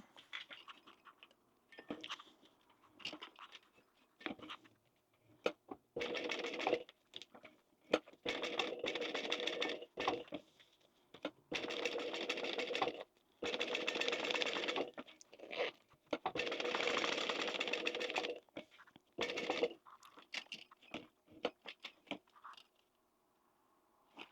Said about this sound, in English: So I'm going to go across and all the way along to meet my stitching.